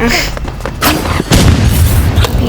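In the online shooter game Rivals, loud booming explosions and gunfire crash close up in quick succession, forming a dense, rumbling barrage.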